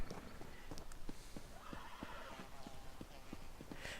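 A horse whinnies faintly amid rhythmic clip-clop hoofbeats in an Elder Scrolls video game set in Skywatch, with a soft synthetic ambience underneath.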